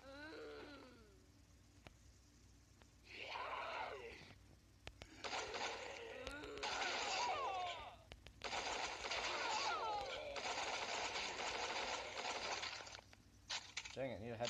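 Bursts of rapid gunfire from the zombie shooter game Zombie Fronter 3, coming in dense clusters over several seconds amid other game effects, at moderate loudness, with a voice talking at times.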